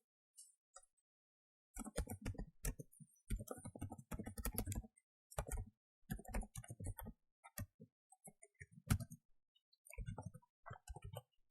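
Quiet, close typing on a computer keyboard in uneven bursts of rapid key clicks separated by short pauses while writing code, with no talking.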